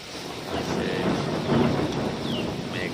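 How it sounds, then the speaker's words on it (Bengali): Steady rain pours outside a workplace during a downpour, with low rolling thunder rumbling through the wash of rain at moderate distance; no voices. "মেঘ ডাকে"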